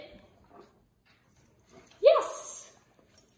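A dog gives a short, sharp whimpering yelp mid-way through an obedience training session, brief and fairly close, with quiet gaps on either side.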